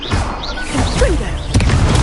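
Confringo blasting curse in the video game Hogwarts Legacy: whistling, swooping magical tones lead into a sudden crashing explosion, loud and close, with the combat clamour continuing after.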